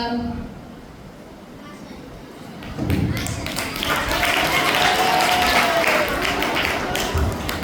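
Applause from children and teachers at a school Nutrition Day event for Eco-Clubs, starting after a stretch of talk and then building into steady, moderately loud clapping that continues to the end, with voices mixed in.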